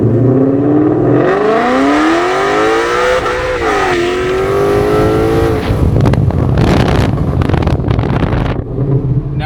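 A Ford Mustang GT accelerates hard with wheelspin between shifts: loud engine revs climb through gears, with brief dips at each shift and a rough, roaring burst as the tires spin, heard up close over wind noise.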